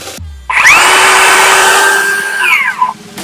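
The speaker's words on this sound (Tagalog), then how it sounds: "I'm going to press the power trigger here to start the circular saw." A Bosch GKS 185 Li brushless cordless circular saw starts with a click, spins up to a loud steady whine, runs for about two seconds, then winds down as the trigger is released, heard alone.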